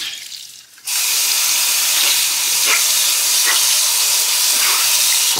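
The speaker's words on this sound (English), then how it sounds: "We're not washing anymore, we're rinsing." Tap water rushing steadily into a sink while soap is rinsed out of a sponge: a loud, close, continuous hiss that starts abruptly after a short quiet moment, with faint squeezing splashes under it and no talking.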